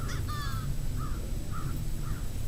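A crow perched between two rough-legged hawks in Wisconsin caws repeatedly: two harsh, close calls at the start, then three shorter, softer caws spaced evenly about half a second apart, over a steady low rumble of wind or traffic.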